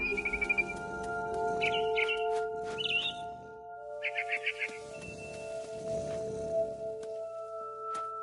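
Barn swallow returning to her nest in What Remains of Edith Finch, chirping in short repeated trills spaced every second or so, close and clear above a quiet droning background.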